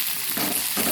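A chopped onion sizzles and crackles in hot oil for a tempering seasoning, a steady close sizzle with two brief louder bursts as pieces hit the pan or get stirred.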